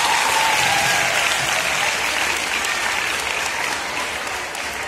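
Students at a school sports prize ceremony give a winner sustained, loud applause, a dense crowd of clapping hands that holds steady and eases slightly toward the end.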